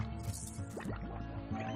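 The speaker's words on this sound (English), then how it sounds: "I heard the poo sound." A wet, squishy dripping splat from a slime pooping in the video game Slime Rancher, a short liquid burst of drips and squelches over faint game background sound.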